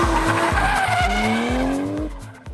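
Peugeot 408 sliding through a moose test maneuver on a drift training ground, tires squealing loudly in long rising and falling screeches over a throbbing, pulsing engine drone.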